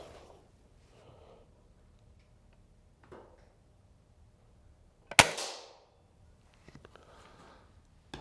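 An SMK B2 air rifle fires a single sharp, loud crack close by, followed by a brief rattling decay, with faint clicks and handling noises before and after in an otherwise quiet setting.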